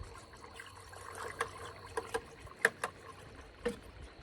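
Pickling lime being whisked into a container of water, giving faint liquid trickling and sloshing with several soft clinks of the whisk against the container, fairly quiet and without talk.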